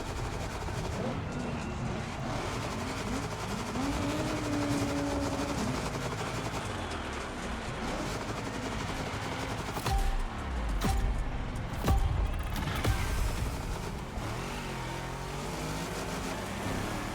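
A 1971 Chevrolet Caprice with an 880-horsepower big-block engine roars in The Crew Motorfest racing game, a dense, continuous rumble with revving swells and crackling bursts near the end.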